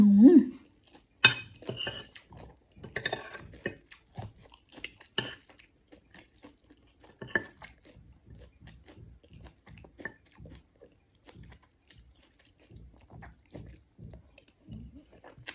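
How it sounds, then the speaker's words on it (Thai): Someone eats Thai khanom jeen rice noodles with plenty of vegetables, with close, moist chewing and biting in irregular bursts, loudest early on and then softer and steadier, with no talking. "ชอบกินขนมจีนแล้วผักเยอะๆค่ะ มันแซ่บมันอร่อย"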